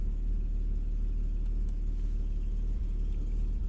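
A 2016 Porsche Boxster Black Edition with a 6-speed manual gives off a deep, throaty engine rumble, heavy and steady in the low end, idling evenly for nearly four seconds with no talk.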